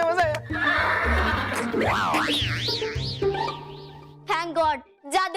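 A horse whinnies loudly in a children's fantasy TV episode, its call rising and falling in wavering pitch for several seconds over a droning music bed, with shorter whinny bursts near the end.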